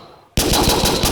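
Rapid automatic fire from a P90 submachine gun in a Minecraft Battlefield weapons mod (version 1.7.10), a loud burst of quick, evenly spaced shots that begins abruptly after a brief quiet moment and continues steadily to the end.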